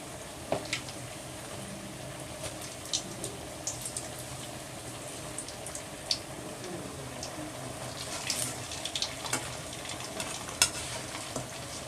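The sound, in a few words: frying idli-batter bondas in oil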